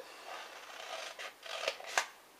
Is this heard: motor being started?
no